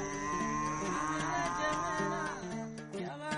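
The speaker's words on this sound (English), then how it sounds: "Museveni decided to get rid of them and restock it with the traditional long-horned Ankole cattle, which he passionately cherishes." Traditional long-horned Ankole cattle low on a Ugandan ranch, a deep sustained moo carrying steadily for several seconds, fairly loud and near, with no one speaking over it.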